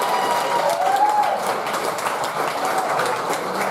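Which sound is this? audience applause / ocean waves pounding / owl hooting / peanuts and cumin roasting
audience applause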